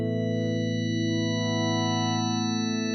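A sustained synthesizer tone with rich, steady overtones that slowly swell and shimmer as an LFO fades them in, held evenly and loud for the whole stretch.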